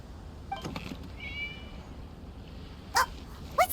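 Short, high meows from a cat in the video game Violet Garden, two quick calls near the end standing out over a quiet background hum.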